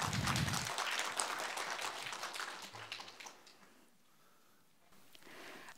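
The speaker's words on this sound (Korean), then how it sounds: "박수 부탁드립니다" Audience applause at a 2022 Masan University innovation results-sharing event, dense clapping that fills the first three seconds, then thins out and fades into quiet room noise.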